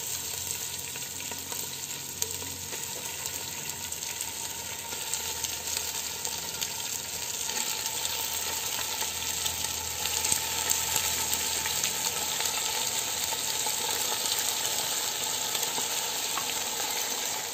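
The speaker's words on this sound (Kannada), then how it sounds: "ಈಗ ನಾನು ಚಿಕನನ್ನು ಹಾಕ್ತೇನೆ." Chicken pieces sizzle and fry steadily in a pan with tomato, with a continuous loud crackle and occasional stirring and clinks, no talk.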